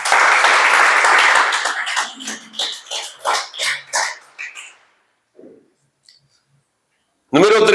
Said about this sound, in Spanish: Da un aplauso a Dios.